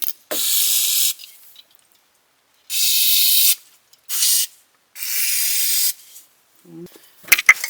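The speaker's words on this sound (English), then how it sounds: "now let's spray a little" Several bursts of brake cleaner aerosol spray hiss loudly and close up on a Subaru BRZ's rear brakes, each lasting about a second, separated by short silences, with a few clinks at the end.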